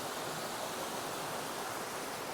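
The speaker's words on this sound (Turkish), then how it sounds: "Nehir akıyor burada bir akarsu." Water of a river stream runs over rocks where a rocky stretch ends and the flow begins, a steady broadband rush with no breaks, fairly close and unchanging throughout.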